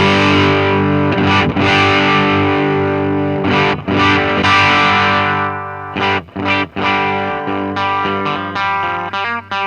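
An overdriven Telecaster electric guitar through a Soldano SLO Mini tube amp plays ringing, gritty chords with a slightly broken-up edge, loud and close, with a few short stops near the end.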